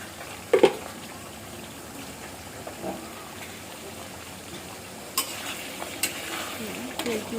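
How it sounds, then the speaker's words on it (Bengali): Spice paste and yogurt are stirred in a sizzling pan for hilsa pulao, with a steady frying hiss under scattered scrapes and clinks of a spoon against the pan. "এখন দই দেওয়ার পরে ভালোভাবে মশলার সাথে মাখিয়ে নিচ্ছি।"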